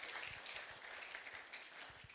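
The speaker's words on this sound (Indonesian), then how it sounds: "Tepuk tangan dulu buat diri kita masing-masing." An audience at a church retreat applauds, a steady, dense patter of many hands clapping at moderate volume, continuous for a couple of seconds with no speech over it.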